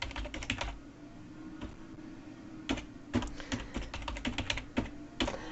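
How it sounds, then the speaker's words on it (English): Loud typing on a computer keyboard, with bursts of rapid clattering keystrokes and short pauses between runs, close to the microphone and alone. "I'm sorry if my typing is really loud. I've just realised that my microphone picks it up really well."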